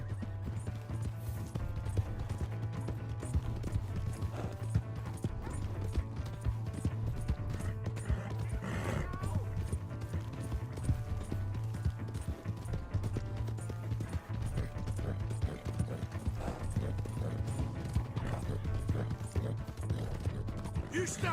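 Horse hooves galloping in Red Dead Redemption 2, a steady rapid clip-clop running throughout with occasional whinnies and snorts, loud and close over a constant low rumble.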